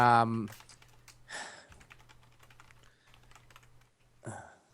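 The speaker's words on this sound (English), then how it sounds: "Am I distracting you by typing in the show notes?" Rapid clicking of computer keyboard typing runs steadily through the clip, with a voice speaking briefly at the start and end.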